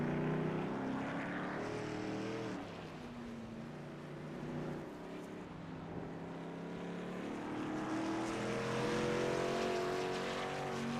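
Race trucks howling around the Indy Road Course at high RPM, layered engine tones rising and falling as several vehicles pass close by, loud and continuous with no talk.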